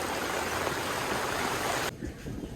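Floodwater from heavy rain rushing over a road in Damnagar, a loud, dense, steady roar of flowing water that drops in level near the end, with no talk.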